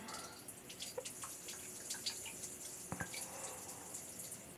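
Water runs steadily from a tap as a soft, faint continuous stream with scattered drips and splashes, heard alone without speech.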